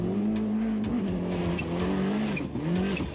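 A Toyota rally car at a 1996 Australian rally races with its engine working hard, the pitch rising and falling sharply as the throttle and gears change, a loud, continuous, close engine note with repeated revving swoops.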